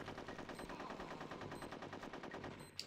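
Rapid, evenly spaced automatic gunfire from the video game Conker's Bad Fur Day, a steady rattling stream of shots lasting nearly three seconds, quiet overall, with a brief sharp click near the end.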